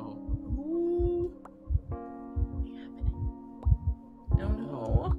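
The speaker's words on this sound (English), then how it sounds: "Hear the heartbeat?" A heavy, regular heartbeat thumps in the Invincible Presents Atom Eve video game, loud and close under sustained synth tones, with a brief vocal sound near the end.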